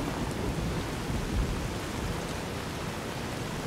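Heavy rain pours steadily in Fallout New Vegas, a dense unbroken roar with a low thunder rumble swelling briefly partway through, loud and with no voices.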